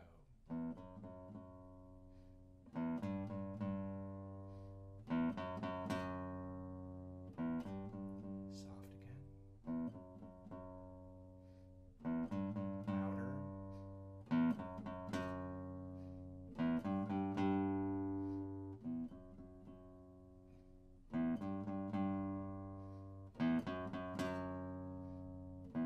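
A guitar picks the Spy Tune melody on the low sixth string, eight short phrases of plucked notes separated by brief pauses, rising and falling in loudness with clear dynamic swells.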